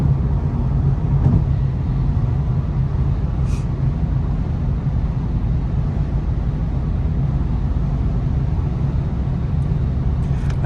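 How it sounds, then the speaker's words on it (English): Steady low road and engine rumble inside the cabin of an Audi A5 Cabriolet while driving with little wind outside, a constant quiet hum with no talking. "you listen to how quiet this car is."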